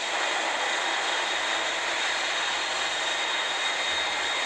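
In a video game, an airplane engine roars with a steady, loud, droning hum that holds constant and unbroken, with no voices over it.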